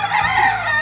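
A rooster crows on a large chicken farm with tens of thousands of birds. It is one short crow heard alone at moderate distance, with other fowl faintly around it.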